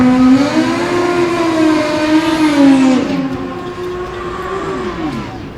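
A Kawasaki ZX14-based drag bike racing down the strip, a loud high engine whine climbing through gear shifts and then falling away as it passes, with a distant crowd-like wash behind.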